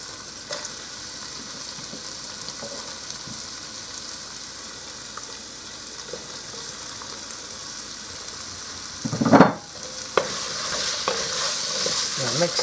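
Carrots and potatoes tossed into a pot of sizzling caramelized onions, a steady fry hiss with a brief loud rustle and thump as the vegetables drop in, then a brighter sizzle afterward.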